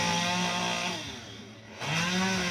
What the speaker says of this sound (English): do you hear that chainsaw? It's pretty relaxing.